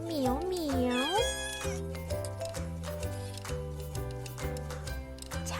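A cat's meow, gliding up and down in pitch, is sung into a children's animal-sounds song over a steady bouncy backing of bass and keyboard, with further sung lines following.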